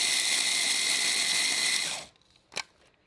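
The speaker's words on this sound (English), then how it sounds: "So you want to do that in a food processor or a little gadget like this. And I just want to grind those up." A small kitchen gadget grinds ingredients into powder for a chocolate cake, a loud steady whirring buzz for about two seconds that then cuts off, followed by a single short clack.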